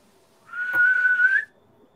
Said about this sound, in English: I heard like a whistle.